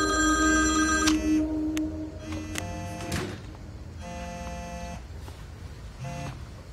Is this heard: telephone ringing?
yes